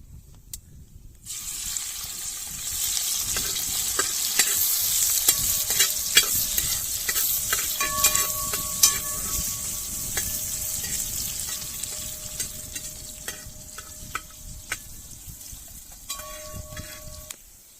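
Crushed small onions sizzle and fry loudly in sesame oil, stirred now and then with scraping sounds, while a rabbit pallipalayam dish is cooked; the frying starts abruptly and continues unbroken without speech.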